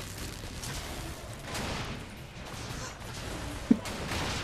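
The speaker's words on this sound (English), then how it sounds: "Gunfire right there." Gunfire in the video game Bioshock Infinite: rattling shots blend into a dense, noisy combat mix, with one sharp, louder crack standing out near the end.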